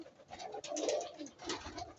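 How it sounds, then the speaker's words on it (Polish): Pigeons coo softly and repeatedly in a low, throaty murmur inside a new pigeon loft, several birds close by with overlapping calls and a faint rustle. "No i już mamy pierwsze gołębie"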